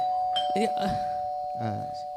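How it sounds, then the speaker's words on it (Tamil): A two-tone doorbell chime rings out clearly with a steady sustained tone, while people talk over it in the foreground. "யாரு காலிங் பெல் அடிக்க யார் வரான்னு பாரு"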